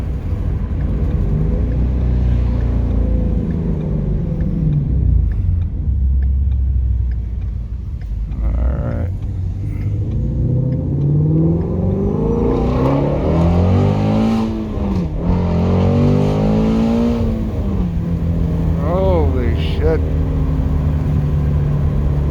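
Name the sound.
sports car accelerating hard, Toyota Supra or Shelby GT350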